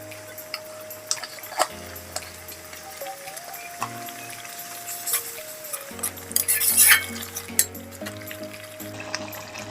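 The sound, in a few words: frying spices with turmeric in a pan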